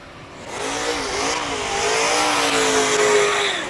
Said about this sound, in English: Glorious sounds of the V8